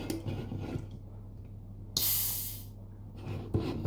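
A sharp fizzy hiss bursts out midway as a sealed Pepsi is opened, fading over about a second against quiet room noise and soft rustling.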